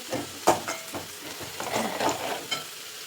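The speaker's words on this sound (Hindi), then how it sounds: "ये इस तरह से प्याज हमारा फ्राई हो रहा है।" Onions frying in oil in a kadhai, a close, continuous sizzle broken by scraping stirs and small clattering strokes of a spoon against the pan.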